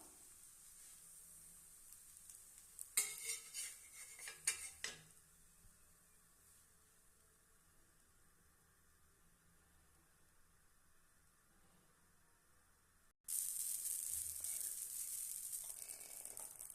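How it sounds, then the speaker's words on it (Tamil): Sorghum dosa sizzling faintly on a hot pan, a brief clatter of handling as it is turned, then a louder, steady frying hiss for the last few seconds, with no talking. "இந்த சைடு வெந்துருச்சுங்க நல்ல இப்போ திருப்பி போட்டுடலாம்"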